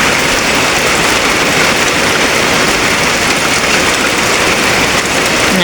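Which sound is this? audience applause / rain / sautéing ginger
rain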